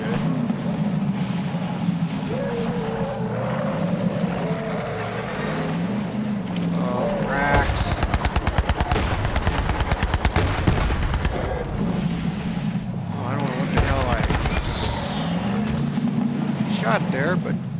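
Rockets firing and exploding in the video game Borderlands 3, a dense burst of rapid blasts and rumbling detonations lasting several seconds over continuous game ambience, with speech before and after the barrage.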